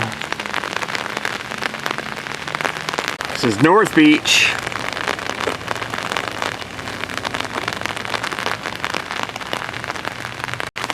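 Steady patter of light rain on an umbrella runs throughout, with a person talking over it.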